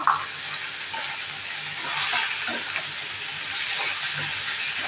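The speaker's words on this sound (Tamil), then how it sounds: "இந்த சமயத்தில் நறுக்கி வைச்ச பாவக்காய் அதையும் போட்டுக்கிறேன்" Steady hissing sizzle of chopped bitter gourd frying in oil, close by, with light scraping from stirring and a sharp clink at the start.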